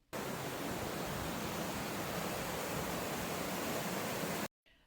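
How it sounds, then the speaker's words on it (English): Strong rushing water of a waterfall heard from inside a cabin near Boxcar Rocks, a loud, steady broadband roar filling the whole clip before cutting off abruptly near the end. "you really hear the strong sound of the waterfall and the rushing water going by"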